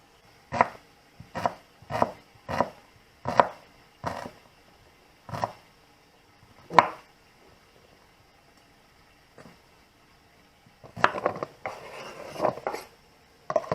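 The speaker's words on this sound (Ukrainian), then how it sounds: "Нарізаю я нашу цибульку." A knife chops onion on a board in quick bursts of sharp taps, pausing between runs, with a denser flurry of chopping near the end.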